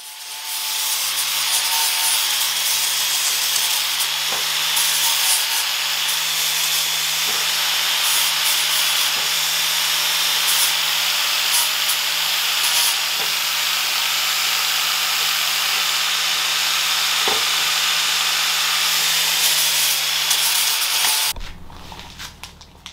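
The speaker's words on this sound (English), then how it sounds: "just got to grab the grinder now with a flap disc and clean up the weld" Angle grinder fitted with a flap disc cleaning up gasless flux-core welds on bare metal, a continuous loud abrasive hiss and rasp running nearly the whole time before stopping abruptly near the end.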